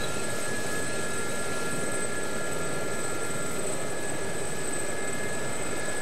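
Steady turbine whine and rotor hum of a Gazelle helicopter in a flight simulator game, a continuous even drone with high tonal lines and no voices.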